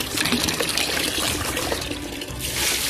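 Potted plants are watered, a loud, continuous close stream of water splashing and trickling into the soil without pause and with no talking.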